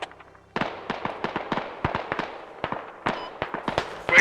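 Friendly mortar strike explosions in the military game Squad: a rapid barrage of sharp, crackling blasts in irregular bursts, one after another, fairly close and loud.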